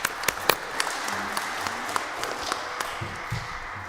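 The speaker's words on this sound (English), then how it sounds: "Let's give them a round of applause." A town hall meeting crowd applauds, scattered claps popping loudly in a brisk, uneven patter that trails off after a few seconds.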